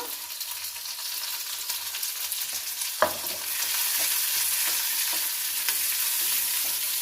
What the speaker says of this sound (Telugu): దీనిలోనే ఉల్లిగడ్డలు కూడా వేగిపోతాయి.